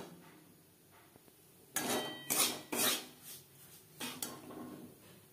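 Semolina roasting in ghee over a medium flame, stirred in a pan with a utensil: a few sharp metallic scrapes and clanks in a quick cluster, then a softer knock, against a quiet background.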